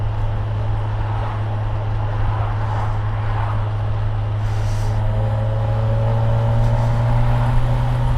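A 2025 Kawasaki Versys 1100 motorcycle cruising at 80 km/h, heard as a continuous loud engine drone with a steady low hum and heavy wind rush throughout, no voices.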